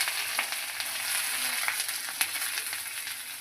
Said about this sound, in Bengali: এখন কেটে রাখা পেঁয়াজ, রসুন আর কাঁচা লঙ্কাগুলো দিয়ে দেব।